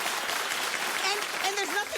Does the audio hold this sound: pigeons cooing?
no